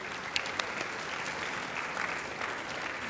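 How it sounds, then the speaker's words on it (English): An audience applauds the women's soccer team at a college student-athlete award ceremony, a steady round of clapping held for a few seconds with a few sharper claps near the start. "So a round of applause for our women's soccer team."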